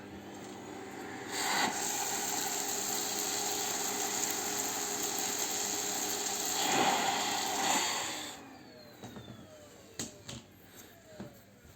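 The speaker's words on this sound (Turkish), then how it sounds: "Elektrik süpürgesini çalıştırıp" A vacuum cleaner runs with a steady, loud mechanical whir for about eight seconds while cleaning husks from birdseed, then shuts off, leaving a few faint clicks and rattles.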